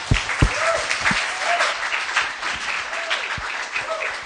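Audience applause for a presenter named Tim at a Foundation Day workshop, a steady room-filling wash of clapping lasting several seconds, with a few louder close claps standing out.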